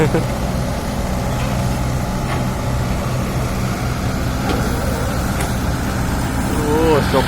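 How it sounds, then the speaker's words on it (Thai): Two small Komatsu excavators running side by side with their small engines, a steady low rumbling drone that holds at a constant level throughout while someone talks over it. "เครื่องยนต์เล็กๆขับน่ารักเลยครับผม"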